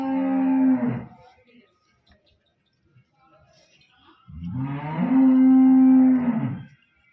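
Two loud, deep moos from a Sahiwal cow on a farm, the first short and the second longer and drawn out, close by, with a quiet gap between them and no talking.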